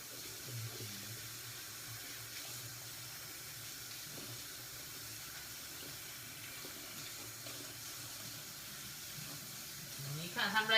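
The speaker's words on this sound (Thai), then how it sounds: "เปิดผ่านน้ำให้แรงที่สุดนะคะ ถ้าน้ำร้อนนะคะ" A tap runs at full force while coriander is washed, a steady, faint hiss of water that holds evenly and gets a little louder and splashier near the end, with someone speaking at points.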